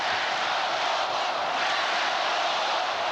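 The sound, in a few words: basketball arena crowd chanting during NBA Finals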